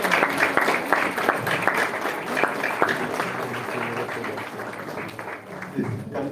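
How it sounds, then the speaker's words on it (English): An audience at a golden jubilee gathering in Pune applauds to welcome a bishop, steady crowd clapping that fills the room and slowly thins toward the end, with a few voices faintly underneath. "Please give a generous applause to him."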